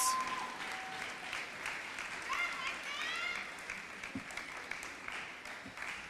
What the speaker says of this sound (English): And give it up one more round of applause for our middle school girls Mustangs.